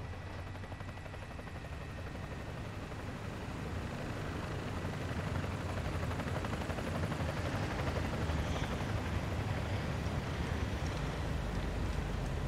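Helicopter rotor in the Call of Duty Modern Warfare 2 campaign, a steady dense thrum and wash that holds loud and continuous throughout, swelling slightly midway, with no talk over it.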